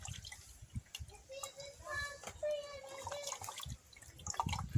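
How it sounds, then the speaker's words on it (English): Fish are washed by hand in a mix of water and vinegar, with soft splashing and dripping close by while people talk over it. "washing up the fish then, guys. Put a little vinegar, water."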